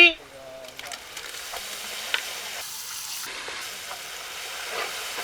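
Blended tomato goes into a sizzling pan for mutton bone gravy, with a sharp burst at the start that settles into a steady, moderate sizzle and frying hiss with faint stirring.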